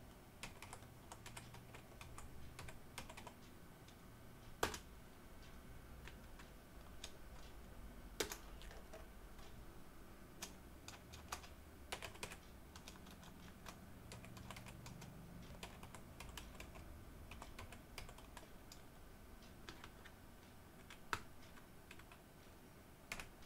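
Typing a Windows command on a computer keyboard, quiet rapid key clicks in irregular bursts with a few louder key presses, heard close up with no talking.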